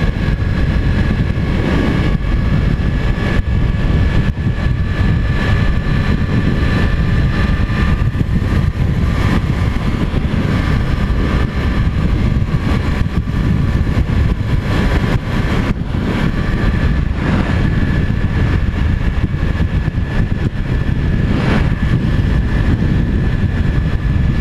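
A Yamaha MT-03 motorcycle under way, heard from on board as a steady, loud engine drone with constant rushing wind noise through a tunnel, continuous with no pauses and no voices.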